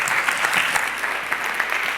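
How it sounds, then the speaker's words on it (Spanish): Conference audience applauding a speaker's arrival, a dense, even burst of many hands clapping at moderate distance, continuous throughout. "Por favor, un aplauso para él."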